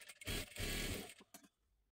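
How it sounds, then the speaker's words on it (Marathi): A sewing machine runs a line of double stitching on a girl's blouse, giving a close, rapid mechanical whir for under a second with short pauses and quieter clicks before and after. "आता ह्याच्यावरती पुन्हा एकदा आपल्याला डबल शिलाई मारून घ्यायची आहे."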